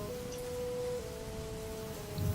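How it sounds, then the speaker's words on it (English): Steady rain falling during a storm, a fairly quiet continuous wash with a faint sustained tone running beneath it and no talking. "Can you do anything about this terrible storm?"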